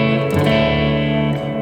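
A sustained electric guitar chord rings loud and full for nearly two seconds, passed through a subdued 70s-setting reverb with the tone turned down and a long, smooth decay.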